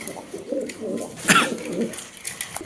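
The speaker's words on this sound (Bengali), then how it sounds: "সিরিয়ান আদানা ডিউলিপটা ডাক দেখেন" Syrian Adana pigeon cooing, a soft repeated low coo from a nearby bird, with a brief brighter call in the middle and faint background noise.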